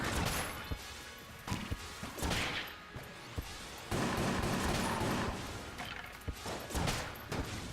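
Gunfire and crashing impacts in the bullet-hell game Enter the Gungeon, with scattered sharp shots and bangs over a dense, busy layer of game noise, fairly loud.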